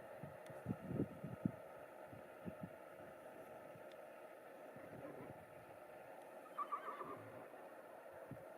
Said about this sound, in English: I can hear other horses coming in.